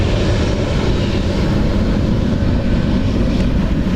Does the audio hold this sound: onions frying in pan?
no